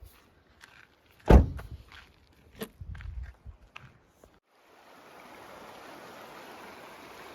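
Footsteps and clunks from someone walking in Crocs along the Sheep River in South Kananskis, a few sharp knocks near the start, then the river's steady rushing flow swells up and continues alone.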